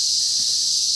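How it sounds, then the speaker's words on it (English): Cicadas buzz outdoors in a continuous, even, high-pitched drone that fills the whole moment without a break. "The cicadas are still here."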